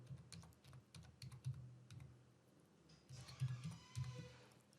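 A contact number is typed on a computer keyboard while a form is filled in, giving soft, quick, irregular key clicks over a low background hum.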